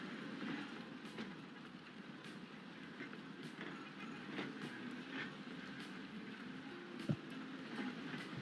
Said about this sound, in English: let's crank up the speed and watch all my lovely, lovely trams pour out of the depot there